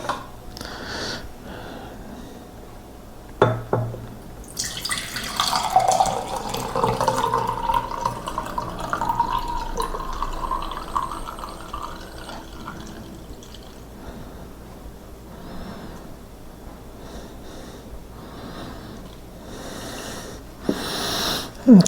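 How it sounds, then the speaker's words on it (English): Calcium hydroxide solution poured back into a container, a gurgling trickle that swells for several seconds and then tapers into faint drips and bubbling. "I'm going to go ahead and pour this back in here."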